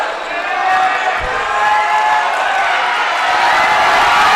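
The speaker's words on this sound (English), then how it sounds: "the crowd in attendance starting to let the Tech fans hear it" Fans at a Carroll vs Montana Tech men's college basketball game roar and cheer in a gym, a loud continuous crowd swell with a thump near the start and voices mixed in.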